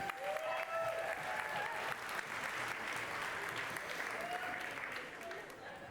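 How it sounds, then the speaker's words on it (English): An audience in a hall claps through a final ceremony, a dense, steady round of applause that holds evenly and then tapers slightly at the end. "Once more, another round of applause, guys."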